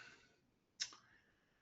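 A single sharp computer mouse click, close and fairly quiet, rising alone out of a near-silent background.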